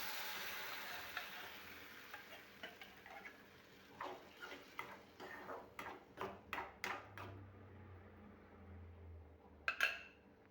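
Moong dal tipped into a pan with ground green chilli and turmeric and stirred, giving a soft sizzle under a series of sharp, evenly spaced scraping taps of the spoon against the pan, close and fairly quiet.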